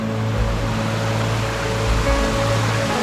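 A small waterfall about two metres high on a river in the Dniester canyon rushes steadily nearby, a loud continuous wash of falling water with no pauses.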